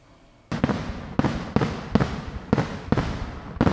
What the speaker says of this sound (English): I think I deserve some fireworks for that.